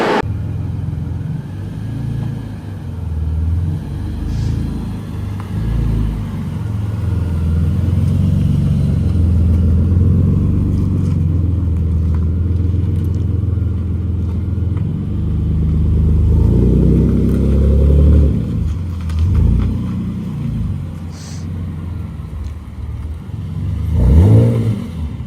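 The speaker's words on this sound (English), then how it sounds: "I'll pull the car out and show you guys what it looks in the daylight" A BMW E46 widebody car being driven out, its engine a steady low rumble with revving swells throughout, close and continuous with no talk.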